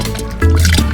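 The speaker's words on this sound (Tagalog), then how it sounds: "Isama na din natin ang mix ng sago at gulaman." Sago and gulaman mix pours into milk in a bowl, a close, loud liquid slosh and fill that thickens halfway through.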